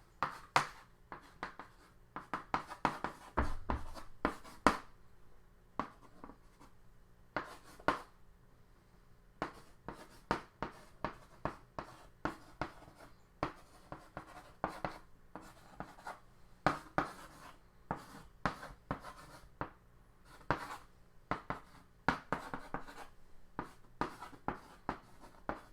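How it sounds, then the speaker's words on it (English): Writing on a classroom board during a syntax lecture, an irregular run of sharp taps and scratchy strokes with short pauses, close and distinct, no talk. "So I'm going to write, again, the definitions up here"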